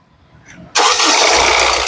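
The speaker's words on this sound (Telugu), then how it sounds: "సింగిల్ సెల్ఫ్ లో కార్ స్టార్ట్ అయితే ఎటువంటి స్టార్టింగ్ ట్రబుల్ అయితే లేదండి" A 2017 Honda WR-V VX car engine cranks and catches on a single start at about 0.75 seconds, then settles into a loud, steady idle that runs to the end, close by.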